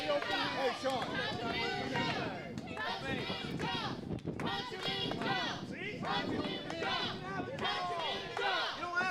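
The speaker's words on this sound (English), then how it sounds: "The crowd calling for a punch to the jaw" A wrestling crowd at the RDW Carnival show chants and shouts together, a dense, loud wall of many voices sustained throughout.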